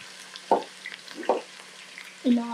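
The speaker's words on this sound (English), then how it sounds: "Let's stir, give it time to cook." Onions frying and being stirred in a pot for pilau, a quiet sizzle broken by a few distinct scraping strokes of the spoon, close and without talk.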